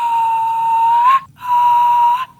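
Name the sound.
loud throat whistle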